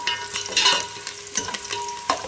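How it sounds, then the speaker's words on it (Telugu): Onions for biryani fry in a pan, a close, loud sizzle punctuated by repeated stirring scrapes and bursts of spatter, no speech. "కొద్దిగా సమయం పడుతుంది, కానీ అవి బాగా వేగాలి."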